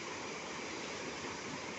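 Steady, broad rush of water pouring through a five-opening sluice gate, a continuous close roar without pauses.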